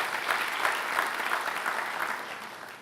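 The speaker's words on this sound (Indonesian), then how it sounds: "Kasih tepuk tangan kepada Tuhan" Congregation applauding in a church worship service, a steady dense wash of many hands clapping at even loudness throughout, with no voices standing out.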